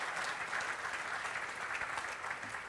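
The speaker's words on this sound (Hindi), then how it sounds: "मैं उनके लिए चाहूँगा ज़ोरदार ताली बजाइए।" A large audience claps loudly and steadily at a film awards ceremony in Mumbai honouring Yash Chopra, dense applause sustained throughout with no voices over it.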